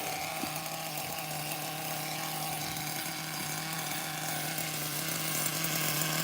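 A nitro RC car engine, an old-school HPI RS4 MT among the cars, idles steadily with a constant buzzing drone and faint metallic rattle, close and continuous for the whole stretch with no talking.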